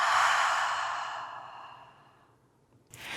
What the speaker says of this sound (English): One more full deep breath in